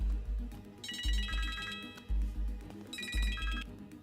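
A telephone ringtone chirps in two bright, repeating bursts during a tense office scene, over a pulsing low beat with heavy thumps.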